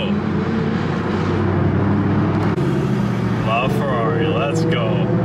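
A Ferrari LaFerrari supercar passes with a loud, continuous engine roar and road noise that swells and shifts midway, heard from inside a moving car while people talk over it.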